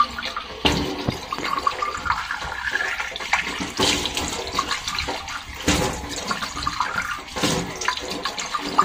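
Water from a kitchen faucet gushes loudly and steadily over a ceramic water filter cartridge as it is rinsed, splashing and changing as the part is moved about under the stream, with no talking.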